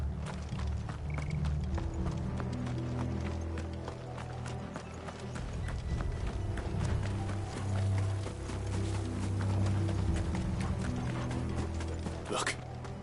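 Horses in the video game Final Fantasy XVI gallop in a steady, continuous clatter of hooves that runs the whole stretch at moderate loudness over a low rumble, with a brief high whinny-like cry near the end.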